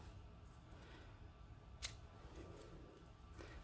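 Fabric scissors make a single quick snip through ribbon against a faint, quiet background.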